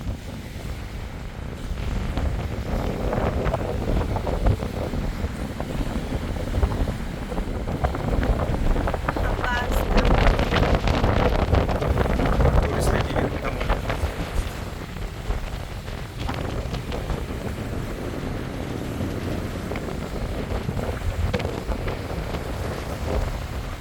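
Wind blows outdoors along the Amur river on a quiet morning, a continuous rumbling gust buffeting the microphone that surges louder midway, with a faint watery wash underneath.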